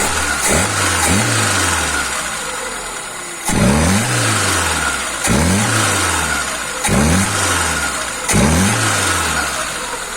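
Car engine running on a rebuilt Solex 073 carburetor, close and steady, with a series of short revs rising and falling every couple of seconds over the idle.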